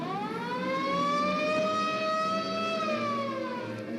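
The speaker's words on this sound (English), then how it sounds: "that's the worst sounding siren. It sounds like a baby dying." A wailing siren effect from the sci-fi serial Flash Gordon holds a loud, continuous tone for several seconds, swelling slightly in pitch and then easing back down, with no voices over it.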